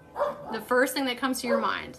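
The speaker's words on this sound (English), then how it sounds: "I am grateful for my pug barking in the background" A pug barks and yips in short bursts close by, mixed in with a person speaking over it.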